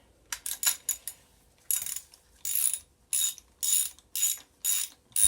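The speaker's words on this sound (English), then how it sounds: "So all I want to do is just recut the thread." Series of short raspy ratcheting bursts as a tap recuts the damaged spark plug thread in a Yamaha Virago motorcycle cylinder head, close and distinct with quiet pauses between strokes.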